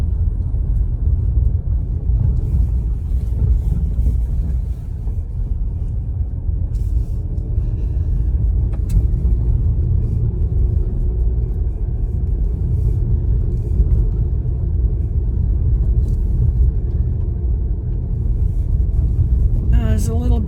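A car drives southbound over a washboard gravel stretch of Mallory Road, a continuous heavy low rumble and road vibration with a brief rattle near the end.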